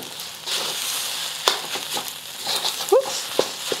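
Egg broken up in a hot pan with the heat just turned off, a steady sizzle and frying hiss with a few sharp scrapes and clicks of a utensil against the pan, close by.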